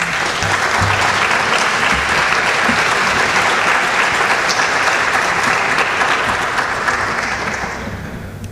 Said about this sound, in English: we should applaud for that school board